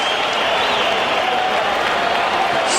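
A packed arena crowd at UFC 62 stands and applauds a great fight, a dense, steady roar of clapping and cheering that holds loud and unbroken throughout.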